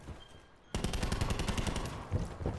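Rapid automatic gunfire in Call of Duty: Black Ops 4, a loud sustained burst of rounds that starts abruptly after a quiet moment and runs continuously to the end, with a few heavier hits near the close.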